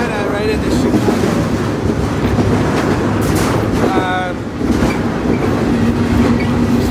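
Freight train rolling toward Chicago at sunrise after leaving Gary, Indiana, heard from aboard a car: steady loud rumble with rail noise and wind buffeting, broken by brief high metallic squeals.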